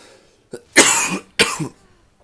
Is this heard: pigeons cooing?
no